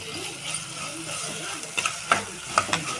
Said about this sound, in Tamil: இப்போ இஞ்சி பூண்டு பேஸ்ட்டு நல்லா வதங்கிடுச்சு